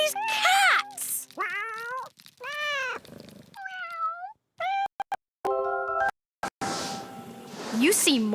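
Cartoon cats meow in quick succession, a string of bright, varied meows and short chirps, some overlapping, with a voice speaking near the end.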